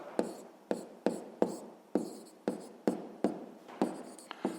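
A hand writes numbers in a sixth-grade maths exercise. Each stroke is a crisp, close scratch of the writing tool, about ten of them in an even rhythm with short pauses between. Nobody speaks.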